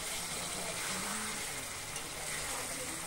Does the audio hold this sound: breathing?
no